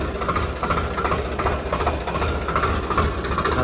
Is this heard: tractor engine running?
yes